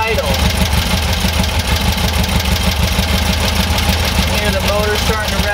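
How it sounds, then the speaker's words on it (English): German air-cooled engine with dual carburetors idling steadily and climbing slightly in revs during carb balancing, a loud, continuous close-up drone filling the garage. "the motor's starting to rev up a little bit"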